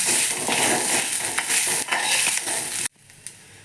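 Masala frying with a handful of coriander leaves in a pan for palak paneer, a loud dense sizzle with stirring scrapes that cuts off abruptly near the end, leaving a quieter pan sound with a single clink.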